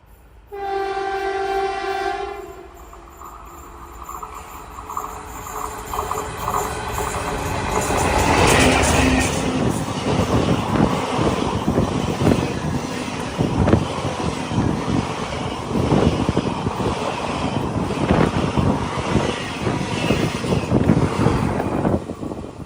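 An Indian Railways passenger train running from Nilambur Road to Palakkad Junction sounds a long horn, then roars past at speed with loud rumbling wheels and rhythmic clatter, wind buffeting the microphone throughout.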